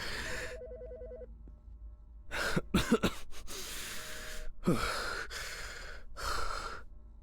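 A phone rings inside the Autopsy Simulator video game, set in a medical examiner's office: a short tonal electronic ring at the start, then breathy rustles, coughs and gasps from the player that mix over the game sounds.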